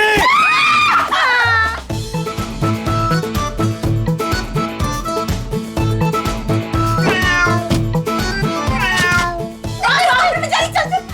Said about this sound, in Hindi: बिल्ली मुझे काट जाएगी, निकालो इसको।